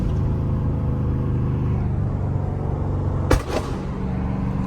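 Deep rumbling exhaust of a Dodge Scat Pack idling and creeping in traffic, heard from inside the car through a partly open rear window, with a single sharp pop or crackle near the end.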